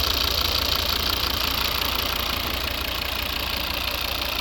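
A 2011 Volvo V70 with the 2.0 D3 diesel engine, 163 hp, and a six-speed manual sits at idle, giving a steady, close-up rumble with an even clatter and no voices.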